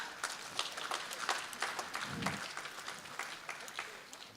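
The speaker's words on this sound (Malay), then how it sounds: "berikan tepukan gemuruh buat diri anda" A large crowd at an Open University Malaysia convocation ceremony applauds steadily and loudly, dense clapping throughout, with a voice faintly audible underneath.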